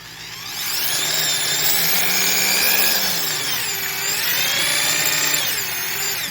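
A Milwaukee (AEG) anti-vibration two-speed hammer drill runs close and loud, its motor whine holding steady with slight pitch wavers and a gear rattle, with no talk over it.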